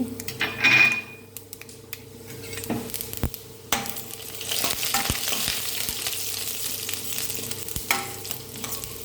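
Urad dal and mustard seeds fry in 2.5 tablespoons of coconut oil in a kadai, giving a close, crackling sizzle that swells and holds steady, with a few clinks of a metal spoon against the pan.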